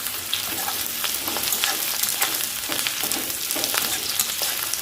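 Chili chicken fries in a pan with capsicum and green chillies, giving a steady crackling sizzle with scattered sharp pops, close and moderately loud, and nobody talking.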